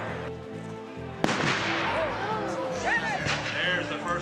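British reenactors fire a musket volley on a hillside battlefield, a sharp crack followed by a rolling, echoing boom. Voices and crowd noise continue around it.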